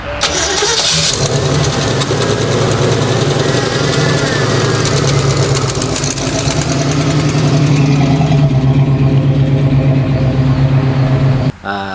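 A 1979 AMC Spirit AMX with a 304 V8 runs loudly and steadily close by for the whole stretch, its rough idle holding even with no speech over it.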